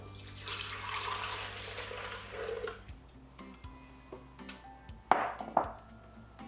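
Two cups of plant milk pour into a Vitamix blender jar as a steady liquid rush for about three seconds, followed by quieter kitchen handling and a couple of sharp knocks near the end.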